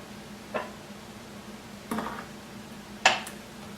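A spoon stirs yeast into orange honey mead, clinking against the vessel in three sparse, quiet taps spread over a few seconds with near-silence between and no voices.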